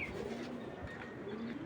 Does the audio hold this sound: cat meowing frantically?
no